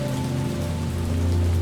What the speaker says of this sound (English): I do like the rain. Look at the rain and the reflection in the pavement here,